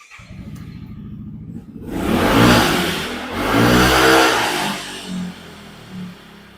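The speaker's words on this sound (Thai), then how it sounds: "เป็นท่อผ่าหมกนะเดี๋ยวฟังเสียงกัน" A Yamaha Xmax 2021 scooter fitted with a modified exhaust idles with a lumpy putter, then revs hard twice in loud rising surges before dropping back to a close, steady idle.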